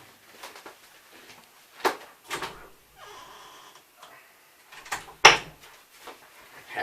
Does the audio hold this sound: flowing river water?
no